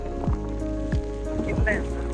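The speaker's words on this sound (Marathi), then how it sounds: "आता पाऊस एवढा वाढलाय ना" Monsoon rain falling at Korigad Fort, a brief steady patter under a low background drone.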